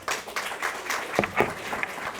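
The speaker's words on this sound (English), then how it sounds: "Let's give them another hand clap." An audience at a domestic partner violence conference gives a short burst of hand clapping, a scattered patter of claps that stays moderately loud for two seconds.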